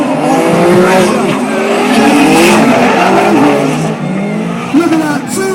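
A drift car at a 2011 JDM Allstars round at Birmingham Wheels Raceway screams past under sustained engine revving and long, wavering tire squeal, loud and close, while a commentator talks excitedly over it.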